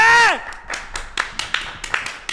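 A small studio audience claps in scattered bursts on a Turkish entertainment talk show, following a loud voiced exclamation at the start; the claps come in uneven, fairly close clusters rather than a steady roar.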